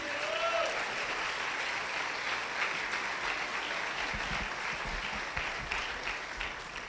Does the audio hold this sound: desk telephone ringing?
no